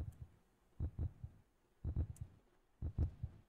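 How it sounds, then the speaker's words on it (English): Video game heartbeat: deep, muffled double thumps repeating about once a second, steady and fairly loud with no talk over them. "Heartbeat's getting louder this way."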